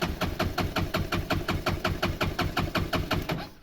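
A Kymco 250cc motorbike engine, left unused for three years, runs with a steady rapid chugging idle, loud and close, with regular pulses throughout before cutting off at the end.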